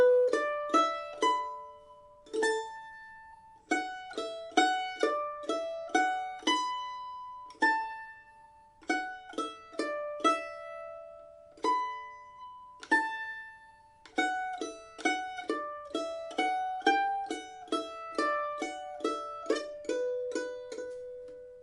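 Mandolin picks out the Irish jig The Connaughtman's Rambles at a slow, steady lesson tempo, bright plucked notes in a lilting triple rhythm, clear and close with no voices.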